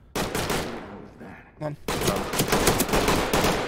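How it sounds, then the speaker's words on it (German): Rapid gunfire rattles through a door in the tactical shooter Ready or Not, loud sustained bursts before and after a short lull, with someone speaking German briefly in between. "Glaubst du, sind die durchgegangen, die Schüsse? Durch die Wand?"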